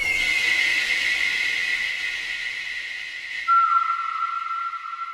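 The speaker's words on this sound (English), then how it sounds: "So you've got an eagle sound and then like a bird sound" Unprocessed samples: a steady high whistling eagle call with airy hiss holds for several seconds, then a sharper, bright bird call sweeps down and sustains clearly to the end.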